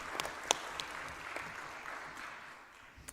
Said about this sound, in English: I would love if we could give him a round of applause for all he's done to make that happen